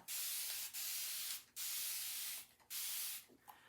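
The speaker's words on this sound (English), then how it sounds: "I'm going to spray some water on it." A spray bottle hisses water onto a double-sided chalk board surface in several quick pumps, each a short burst of fine mist with brief gaps between, close and fairly quiet.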